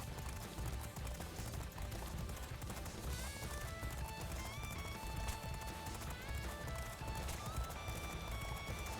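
Rapid hoofbeats of a galloping racehorse, steady and continuous over a busy game soundtrack with music and effects, from the PS2 game G1 Jockey 3.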